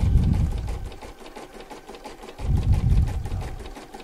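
An embroidery machine stitches a satin-stitch border around a panda pouch, running with a fast, continuous mechanical whir and needle chatter close by, swelling slightly in loudness at intervals, with no talking.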